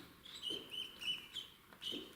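Young birds give repeated raspy, rattling calls in short bursts, close and fairly quiet, with brief pauses between them.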